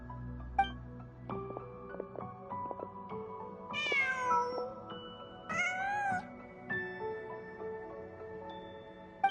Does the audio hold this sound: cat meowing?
yes